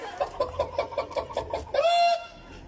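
At an outdoor Christmas lights inauguration event, a person imitates a hen, giving a quick run of about eight evenly spaced clucks followed by one longer drawn-out squawk, close up.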